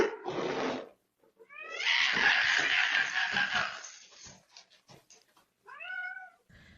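A cat freaking out as a bear comes through a kitchen window at night: loud, strained yowls and hissing cries in several bursts, with a long wailing caterwaul in the middle and shorter meows near the end.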